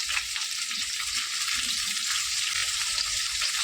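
Potatoes and taro fry in a pan with salt and turmeric for a hilsa fish curry, giving a steady, close, bright sizzle that runs throughout with no talking.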